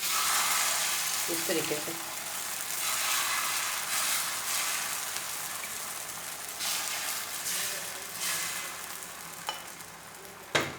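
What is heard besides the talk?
egg poured onto a hot pan for egg paratha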